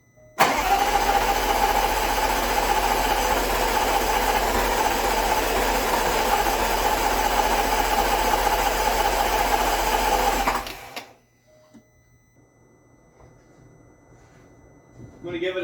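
A Land Rover Range Rover L405 5.0L V8 cranks on its starter for about ten seconds, a loud, fast, even whirring churn that stops abruptly, leaving near silence with faint movement and a rising noise at the end.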